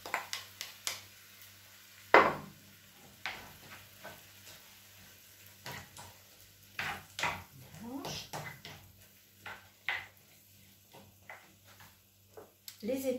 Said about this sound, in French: j'incorpore maintenant les haricots rouges.